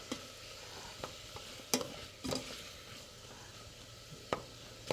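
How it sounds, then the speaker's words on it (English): Onions frying in a pan, stirred with a few sharp utensil scrapes and knocks over a quiet, low sizzle, fairly faint and close with no speech. "Stir that up a little bit."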